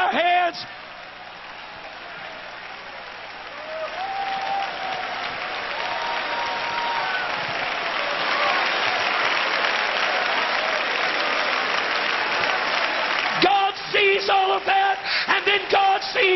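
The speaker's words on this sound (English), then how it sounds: "He hears us clap our hands." A church congregation claps at a large gathering, producing dense, sustained applause with scattered cheers and whoops that swells and holds. A voice speaks near the end as the clapping breaks up.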